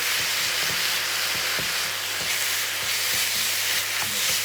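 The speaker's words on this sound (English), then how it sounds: "Just sort of brown this mince." Beef mince browning in a pan for a bolognese sauce, a steady broadband sizzle with soft scraping stirs and light knocks at irregular intervals, close and continuous without talk.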